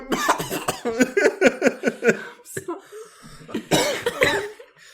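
A person coughs in a rapid series of short, harsh bursts close by, pauses briefly, then lets out a few more coughs.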